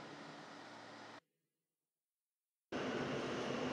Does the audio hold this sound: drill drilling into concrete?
no